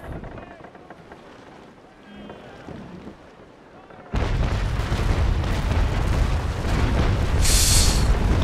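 A broadside of cannon fire from a ship in a naval video game, heard as a sudden loud, sustained roar of booming blasts that follows a quieter stretch of rumbling ambience.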